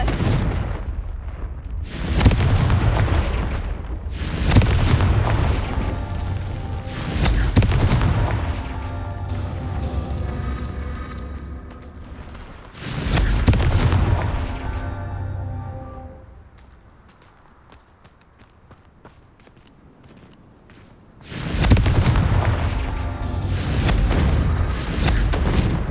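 Confringo spell explosions in the Hogwarts Legacy video game, a series of deep booming blasts spaced several seconds apart, loud and close, with a quieter lull between them.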